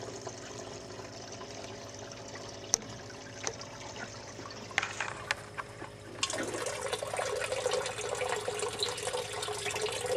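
Water rushes out of a newly opened pipe on a cheap DWC hydroponics setup. A low hum with a few clicks comes first, then a louder steady spray cuts in partway through and keeps going.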